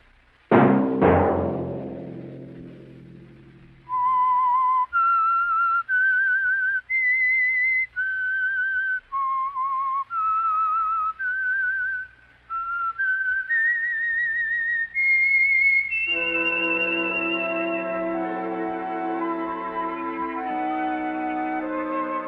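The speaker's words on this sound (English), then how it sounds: "Let that whistle be your signal for the Signal Oil program, The Whistler" A melodic whistled theme for the Signal Oil radio mystery program The Whistler, sounding alone as a clear run of rising and falling notes before orchestral music swells in behind it.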